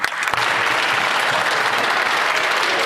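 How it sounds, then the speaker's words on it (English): Members of the Parliament of Canada break into sustained applause, dense clapping filling the chamber at a steady level for a few seconds with no talk over it. "Navika, the Parliament of Canada is cheering for you."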